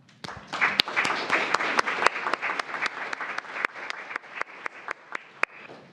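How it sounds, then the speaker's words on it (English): A small group at a school board meeting gives a round of applause, with distinct individual claps rising to a lively patter and then thinning out to a few last claps. "So one final shout out to our planning team facilitators with just a nice round of applause."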